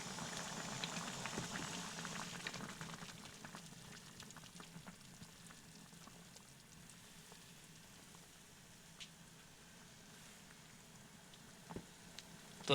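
Bengali sweets simmer in syrup with date palm jaggery added, a soft, continuous bubbling and sizzle heard faintly and steadily throughout, with occasional small pops.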